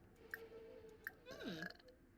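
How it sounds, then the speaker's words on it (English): A single belch rises and bends downward at close range, low and throaty, set among soft background sounds during a gaming chat. "I heard that burp, by the way."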